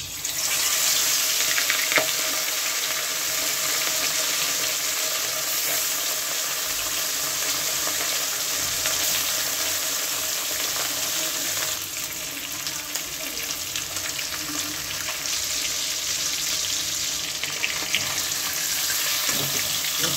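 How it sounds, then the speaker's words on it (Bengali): Marinated rohu fish pieces fry in a little oil, giving a steady, unbroken hiss that is close and even in loudness and runs for the whole stretch without talk. "এখন আমি অল্প আছে মাছগুলিকে ভেজে নেব।"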